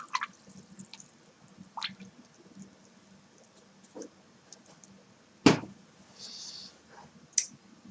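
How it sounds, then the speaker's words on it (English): A watercolour paintbrush is rinsed in a water pot, giving faint scattered drips, small splashes and taps against the container, with one sharper clack near the middle, quiet and close. "Rinse my brush."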